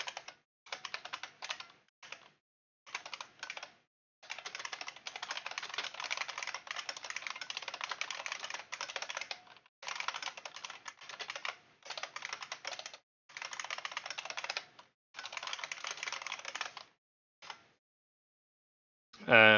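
Someone types code on a computer keyboard, with quiet, close key clatter coming in bursts separated by short pauses, no talking.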